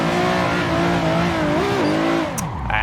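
A drift car in a video game revs loudly, its engine note climbing and dipping as the tires spin and the car slides off, ending in a brief tire squeal.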